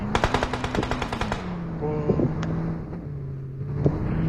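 Rapid automatic gunfire bursts from a PUBG Mobile match, a fast rattling volley up front that gives way to a droning vehicle engine and scattered single shots.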